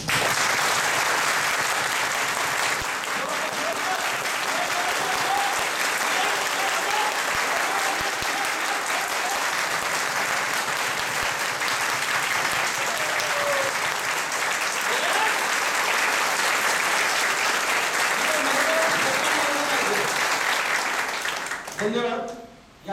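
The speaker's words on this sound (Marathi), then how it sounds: "या टाळ्या माझ्यासाठी नव्हत्या, तुमच्यासाठीच होत्या." Sustained applause from a seminar audience at a dream-building seminar in Satara, a dense, steady wash of clapping lasting over twenty seconds, with faint voices mixed in near the end before it cuts off.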